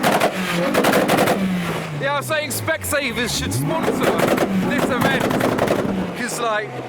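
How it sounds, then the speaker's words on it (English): Honda Civic popping flames from its exhaust at a large JDM car gathering: sharp, loud cracks and bangs over revving engines, with shouting and crowd voices throughout. "That's the effect of a Civic that pops flames."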